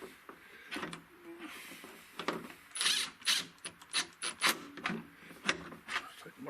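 Tightening a screw into the plastic housing of a parking/signal light on a 2011-2016 Ford F-250 gives a run of close, sharp ratcheting clicks and mechanical scrapes in irregular bursts, with no talk.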